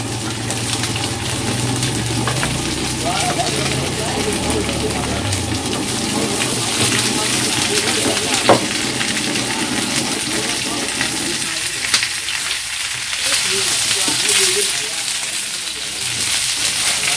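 Frog pieces frying in fish sauce in a pan, a steady close hiss and sizzle with crackling running throughout, with faint background voices nearby.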